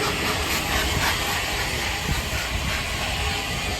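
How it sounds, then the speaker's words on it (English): Steam locomotive 34067 at Carlisle, heard as a steady loud hiss of steam over a broad rumbling rail noise, continuous and close with no distinct beats. "I do love a good old steam train, but there's no better than the Flying Scotsman, but this will do."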